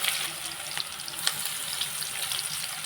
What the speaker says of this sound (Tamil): உப்பு போட்டு நல்லா வதக்கிக்குங்க